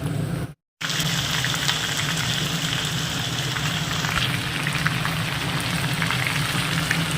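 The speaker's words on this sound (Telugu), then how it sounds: "ఇట్లా ఆయిల్ బాగా కాగిన తర్వాత ఒక్కొక్క ముక్క వేసుకుంటూ ఒక్కొక్క ముక్క అంటుకోకుండా నీట్గా కలుపుకుంటూ వీటిని కొంచెం గోల్డెన్ షేడ్ వచ్చేంత వరకు వేపుకొని తీసేద్దాం" Pieces of food dropped one by one into hot oil and frying until golden: a loud, continuous, dense sizzle and crackle close up, with no voices, apart from a brief dropout near the start.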